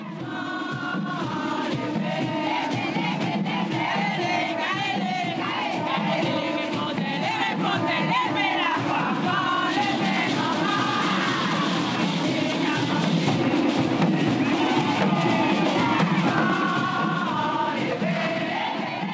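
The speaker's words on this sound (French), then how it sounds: "Fendre la foule avec 200 personnes devant, 400 derrière, tout à l'unisson est une expérience unique" Carnival crowd marching through the streets of Pointe-à-Pitre, Guadeloupe, a loud, dense roar of many voices chanting and shouting in unison with rhythmic pulses, continuing without a break.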